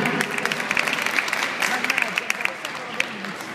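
An audience applauds a band with brisk, fairly even clapping heard at a moderate distance, with a voice talking over it.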